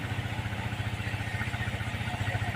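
A Honda TMX Alpha motorcycle, its engine converted from 125 to 175, idles steadily with an even, pulsing beat throughout, and someone talks over it at moments.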